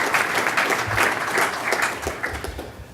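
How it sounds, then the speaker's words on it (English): A conference audience at NewSpace 2017 applauds the Space Foundation, a crowd's steady clapping at fairly close range that slowly fades toward the end. "So why don't we just give them a little round of applause for all the hard work"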